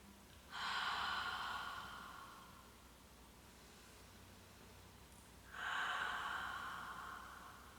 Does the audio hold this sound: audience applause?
no